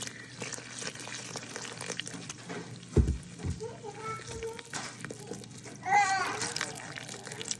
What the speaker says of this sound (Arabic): وبعدين هنبدأ نحط المية.